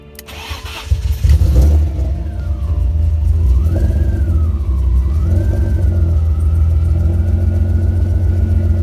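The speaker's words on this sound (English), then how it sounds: "we're gonna go ahead and try to start the car" A BMW E36 325i engine with a performance chip and no catalytic converter cranks and catches, then settles into a loud, rough idle with a rising and falling rev, close by.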